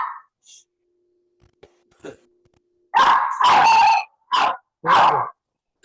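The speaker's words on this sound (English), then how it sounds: "I don't know what she's barking at." A dog barks sharply four times in quick succession, loud and close, after a few seconds of near silence with faint small noises.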